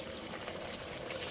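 Chicken pochero simmers in tomato sauce with a soft, steady bubbling, close and quiet.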